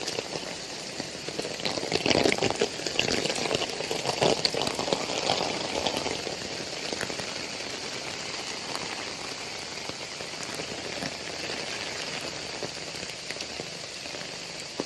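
Heavy rain pours down in Kozhikode, Kerala, on a May morning, a dense, close wash of drops striking surfaces. It is loudest for the first few seconds, then settles into a steady roar with no talking.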